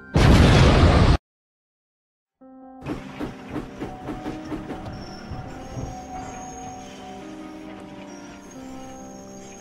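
A loud, harsh blast of an exploding steam locomotive bursts out and cuts to sudden silence, then a steam train's rhythmic chuffing and hiss take over.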